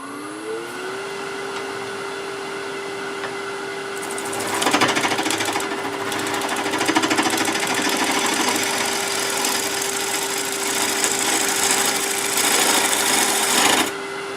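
A wood lathe shapes a tenon on the base of a bowl, held for 50mm chuck jaws, and the steady motor drone carries sputtering, rasping bursts as the tool bites in and lifts off the spinning wood.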